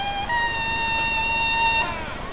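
Long horns from a Holy Monday procession, their tubas carried on two wheels, sound a sustained, bright, steady blast with layered overtones, loud and close, holding for nearly two seconds before fading.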